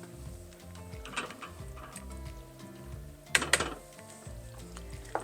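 Cooked pasta is stirred into a cheese sauce in a pot for one-pot mac and cheese, giving soft wet scraping and gentle sizzling, with a couple of sharper clinks of a utensil against the pot.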